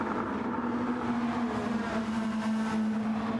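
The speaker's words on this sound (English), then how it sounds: "Listen to these cars" Race cars lapping Monza in Gran Turismo 7 give a steady, droning engine roar with a held high-pitched tone, continuous and fairly loud throughout, with no talking.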